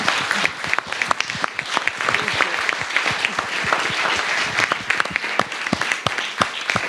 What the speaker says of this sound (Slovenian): in mi mu lahko zaploskamo,